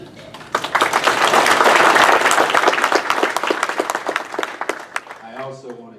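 An audience at a National Football Foundation and Allstate Sugar Bowl awards luncheon breaks into loud, dense applause that swells, holds, then thins to scattered claps before a voice resumes.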